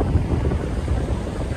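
Strong wind buffeting the microphone on an October evening at a seaside building site, a dense, rough roar with gusty low thumps and no voices.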